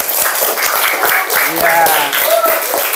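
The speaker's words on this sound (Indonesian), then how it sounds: "Tepuk tangan." Classroom applause after a Quran lesson recitation, a short burst of hand clapping running under a speaking voice, with a brief spoken word heard over it.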